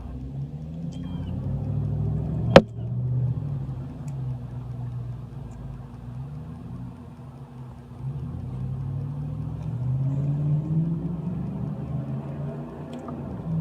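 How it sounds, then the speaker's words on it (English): Cars drive around a neighbourhood on the Fourth of July, a steady low traffic rumble rising and falling as vehicles pass at a distance, with one sharp click early on. "They got cars going all over the place"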